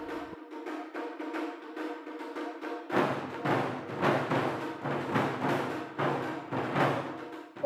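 Puna Taiko Performance Group of East Hawaii playing kumidaiko-style Japanese taiko drums in an ensemble: a rhythmic series of deep booming hits, sparser at first, then denser and louder strikes in steady driving patterns, with no speech.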